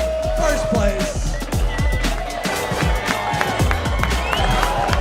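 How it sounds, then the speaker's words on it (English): An audience at the St. Maarten Heineken Regatta claps and cheers for a prize-winning crew, a lively burst of applause under an announcer's amplified voice and thumping background music. "Big round of applause."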